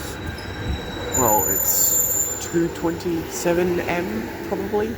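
A long-distance passenger train rolls past with wheels squealing and a steady mechanical hum, while a person talks intermittently over it.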